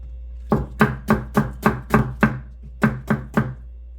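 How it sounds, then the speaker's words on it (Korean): A knife slices an onion into thin strips on a cutting board, with eleven crisp chops in two quick runs and a short pause between them, close and clear, with no talk. "양파 1개 채 썰어서 넣을 거예요."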